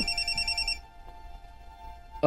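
A telephone rings with an incoming call, a short electronic ring burst at moderate level that stops within the first second, followed by quiet room tone and a brief louder clatter at the end.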